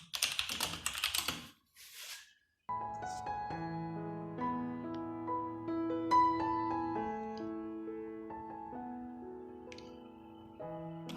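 Keys clacking in quick bursts on a white Nisuta 60% mechanical keyboard with a US layout, close and fairly quiet, with a steady tone running beneath the later typing.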